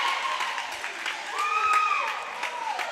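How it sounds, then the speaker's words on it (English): A lively crowd at a high school basketball tournament game in a gym, giving a steady roar of cheering and applause with some shouts rising above it, heard at moderate distance with talk over it. "You can hear the crowd from Westfield School. They are lively."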